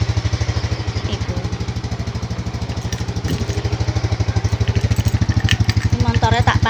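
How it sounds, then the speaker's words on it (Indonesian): A motorcycle engine idles steadily close by while warming up, its even rapid thumping pulse running without a break, and a faint voice is heard briefly near the end. "Motornya tak panasi nek gak ono mogok."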